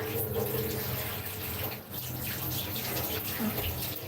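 Tap water runs steadily into a sink while hands are washed, a close, continuous splashing rush with faint voices in the background.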